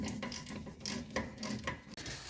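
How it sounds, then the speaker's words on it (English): A 17 mm wrench tightening the ball joint nut on a 1985 Mercedes 300D, heard as several short ratcheting rasps and metallic scrapes in a steady rhythm, close by with no talking. "So I'm tightening this nut."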